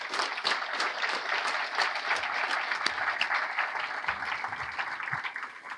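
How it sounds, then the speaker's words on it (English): Warm round of applause from a seminar audience honoring scholars seated at a special table, continuous dense clapping at moderate level throughout. "I'm going to give them a round of applause."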